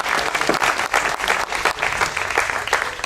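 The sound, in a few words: audience applauding at award ceremony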